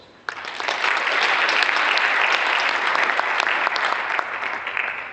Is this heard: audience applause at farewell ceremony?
yes